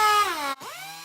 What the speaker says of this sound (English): So I'm using a 250 grit sandpaper on my air hose here.